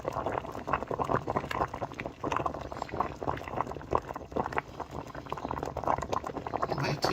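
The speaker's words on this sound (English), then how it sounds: "in this pot bubbling, have your white yam, you have some sweet potato, and the yellow yam." A pot of white yam, sweet potato and yellow yam boiling on the stove, a steady dense bubbling and gurgling at moderate level throughout, no voices.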